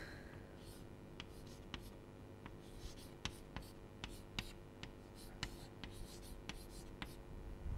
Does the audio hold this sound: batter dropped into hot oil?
no